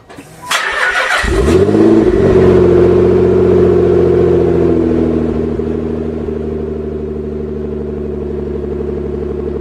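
A Nissan 300ZX sports car engine fires up, revs loudly, then settles into a steady, deep idle with a rich low rumble, close and loud throughout.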